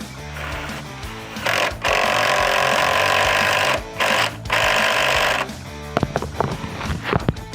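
A cordless LMlava LM240 impact wrench works on a bolt holding a roof beam, firing off several loud, rapid hammering bursts separated by short pauses, followed by clanks and rattles.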